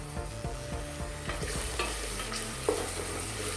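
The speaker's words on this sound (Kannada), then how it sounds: "ಈರುಳ್ಳಿ, ಸಣ್ಣಕ್ಕೆ ಹೆಚ್ಕೊಂಡಿರುವ ಈರುಳ್ಳಿ ಎಲ್ಲನೂ ಚೆನ್ನಾಗಿ ಎಣ್ಣೆಯಲ್ಲಿ ಫ್ರೈ ಆಗೋಕ್ಕೆ ಬಿಡಿ." Finely chopped onions and green chillies fry steadily in oil with ginger masala paste, a continuous close sizzle broken by regular scraping stirs of a spoon in the pan.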